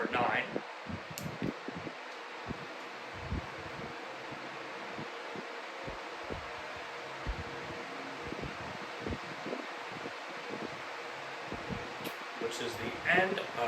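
A Lasko WhisperForce DC pedestal fan, model S18708, runs at speed 9 with a steady, broad airy whoosh, broken by occasional soft thumps and handling noises and a faint voice in the background.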